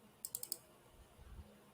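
A computer mouse being double-clicked twice in quick succession, four faint sharp clicks close by in a quiet room, followed by a soft low thump.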